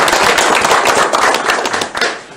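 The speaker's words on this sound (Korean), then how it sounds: "다시 한번 박수 한번 주시기 바랍니다" Government officials at a Korean budget meeting with the president break into dense, loud applause, many hands clapping at close range for a couple of seconds before it begins to fade.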